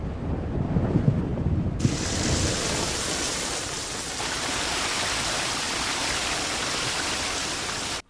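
Heavy rain pours in a dense, continuous hiss that thickens after a moment, with low rumbling underneath and a sudden cutoff at the end; no voices.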